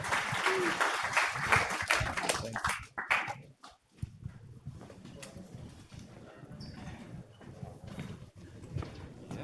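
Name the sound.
audience applause for presenter at demo night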